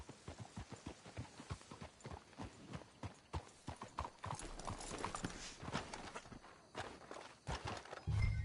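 Horses clip-clop along at a walking pace in Red Dead Redemption 2, a steady run of hoof strikes heard close. A brief snort or whinny comes near the end.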